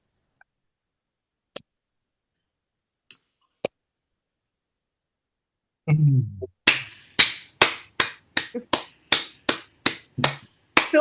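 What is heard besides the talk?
Zoom participants unmuting and applauding readers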